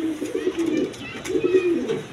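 Cooing racer and mixed-breed pigeons at a pigeon seller's, two long rolling coos in close succession, fairly loud and near, with faint background chatter.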